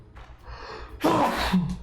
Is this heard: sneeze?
yes